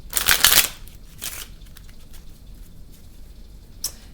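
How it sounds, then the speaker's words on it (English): Tarot cards are shuffled in a loud, crisp riffling burst, followed by a shorter second shuffle and one brief final flick, all close up with quiet pauses between. "Now let's shuffle first."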